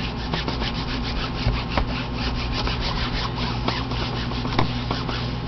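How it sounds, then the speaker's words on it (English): Wet craft glue being wiped off a black craft mat, a steady close rubbing and scrubbing with repeated short strokes, alone with no talk. "wipe this up now so that it doesn't dry on my surface"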